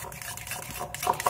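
A spoon stirring ground coriander, cumin and garam masala in a metal bowl, giving a brief burst of close scraping and clinking that grows slightly louder toward the end.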